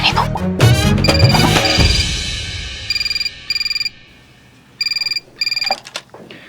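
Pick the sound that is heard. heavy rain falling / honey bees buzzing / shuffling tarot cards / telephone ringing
telephone ringing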